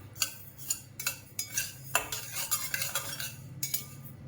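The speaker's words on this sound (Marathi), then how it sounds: "आता हे आपण चांगलं जिरं कडक भाजून घ्यायचे थोडंसं याच्यात भाजून जाईल याच्यामध्ये सारखं हलवत राहायचं" Cumin seeds dry-roasting in a pan while a spoon stirs them continuously, a run of quiet scraping and clinking strokes with a soft rattle between them, close and faint with no talk.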